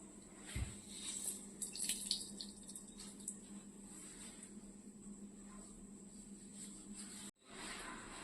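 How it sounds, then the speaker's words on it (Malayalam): Water trickles and drips quietly as cooked taro leaves are squeezed by hand, soft splashing close by with no talking. "അപ്പൊ നമ്മൾ ഈ വെള്ളം അങ്ങ് ഞെക്കി പിഴിഞ്ഞ് കളയും"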